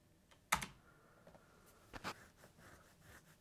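Single sharp key press on a computer keyboard, close and quiet, followed by a second softer tap and faint light clicks against a low room hiss.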